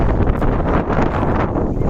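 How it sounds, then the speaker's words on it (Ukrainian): Loud wind buffets the microphone in a continuous roaring rumble, gusting slightly stronger and weaker over a couple of seconds. "сьогодні вітер"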